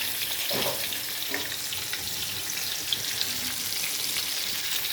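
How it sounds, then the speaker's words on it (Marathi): Fish frying in plenty of oil gives a steady, dense sizzle and crackle, close and fairly loud throughout, with a few faint stirring bumps and no voices. "बघा कसं व्हायला लागलंय, तुम्ही तळायला लागलंय मस्त"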